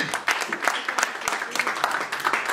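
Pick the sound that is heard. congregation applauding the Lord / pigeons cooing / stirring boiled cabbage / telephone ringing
congregation applauding the Lord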